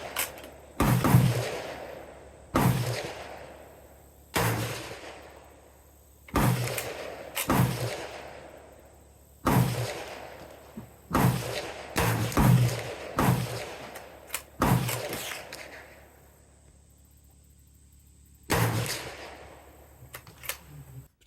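Repeated sharp gunshots from a rare .222 bolt-action scout rifle at a public outdoor range, about a dozen loud cracks spaced a second or more apart, each trailing off in echo, with other range shots mixed in.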